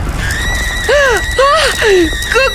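Shrill, continuous screaming in a horror story, rising and falling in repeated wailing cries that sound almost like a horse's whinny, loud and close over a rough background.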